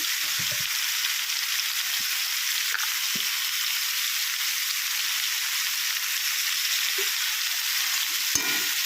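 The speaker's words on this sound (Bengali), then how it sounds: "ডাঁটা কাঁঠালের বীজটাকে দিয়ে দিলাম, ভালো করে নাড়িয়ে নিচ্ছি।" Vegetable stems, jackfruit seeds and lentil dumplings frying in a pan, a steady, close hiss of sizzling oil with a few soft scrapes and knocks from stirring.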